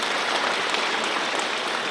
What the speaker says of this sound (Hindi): माननीय मोदी जी के लिए जोरदार ताली बजाएं